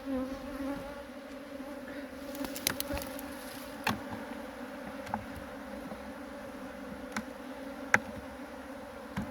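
Honeybees buzz steadily at a hive being prepared for spring, a continuous droning hum with a few brief knocks and clicks of hive tools scattered over it and no talking.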